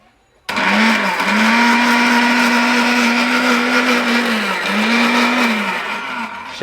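A Steel Bush robot blender whirs loudly while blending fish bharta, starting abruptly with a steady high-speed motor drone that dips briefly in pitch a couple of times, close and continuous with no talking.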